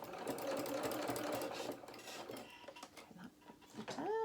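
Sewing machine stitching coat fabric around a curve, a rapid steady buzzing run that slows and stops partway, then brief short bursts and fabric handling close up.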